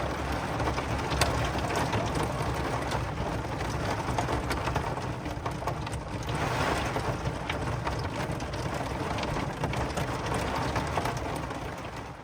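Steady rain pours down during a thunderstorm on a forested overland route, a dense continuous hiss of drops on surfaces holding an even loudness throughout, with no voices.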